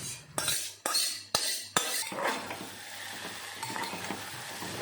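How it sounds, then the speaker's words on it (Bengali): Onions fry and sizzle steadily while a utensil scrapes and knocks against the pan several times, loudest at the start. "পেঁয়াজটা একটু নাড়িয়ে চাড়িয়ে ভেজে নিলাম"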